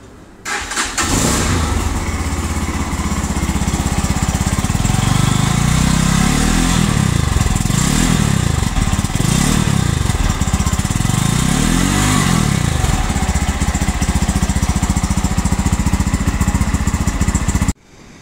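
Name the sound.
GPX Demon GR165R motorcycle exhaust note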